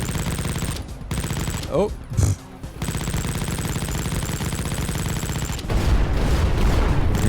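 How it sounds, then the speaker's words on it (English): Minigun fire in the indie shooter game Project Warlock, a dense continuous rattle of rapid shots running nearly throughout, briefly broken by a short gap and a heavier burst, with a quick exclamation from a player over it. "We'll start out with the minigun."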